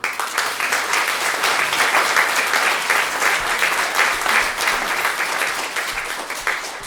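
Audience applause at a regional gathering of kindergarten singing choirs, a dense, steady wash of many hands clapping close by, sustained at an even level throughout with no talk over it.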